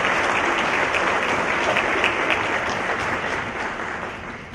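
A hall audience at a 2018 Central High School Hall of Fame ceremony applauds steadily, a dense, even wash of many hands clapping that fades slightly toward the end.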